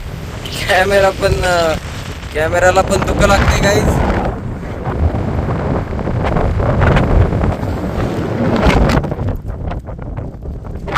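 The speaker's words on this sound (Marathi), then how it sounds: "हवा सुटलेली इथं, खूपच थंडी आहे. हवा मागं फेकते आम्हाला अक्षरशः." Strong, cold wind roars over an exposed summit on the Brahmagiri trek near Nashik, buffeting the microphone in loud continuous gusts while people talk over it near the start.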